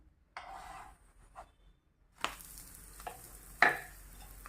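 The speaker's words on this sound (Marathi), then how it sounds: "छान तूप सोडून खरपूस अशी जशी आपण पुरणपोळी भाजतो तशी ही पोळी आपल्याला भाजून घ्यायची आहे" Shira poli, a sweet flatbread, roasts in ghee on a hot pan, with short bursts of hissing sizzle and a few sharp scraping or flipping sounds, close by and separated by quiet gaps, with no talking.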